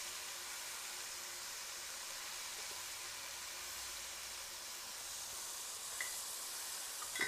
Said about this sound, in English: We're going to cook this till the garlic is just about tender.